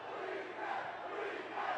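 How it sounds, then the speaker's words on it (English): Fans at a Juggalo Championship Wrestling live event in Farmington, New Mexico chant together, a loud, sustained crowd roar with no break. "Listen to this chant."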